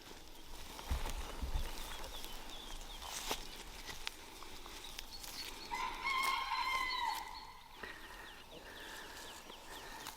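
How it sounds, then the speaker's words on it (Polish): A rooster crows once at a middle distance during spring tree grafting, a clear drawn-out call rising above soft outdoor background noise, with a few faint thumps earlier. "Nie wiem co ten kogut chciał powiedzieć, ale na pewno, że mam rację."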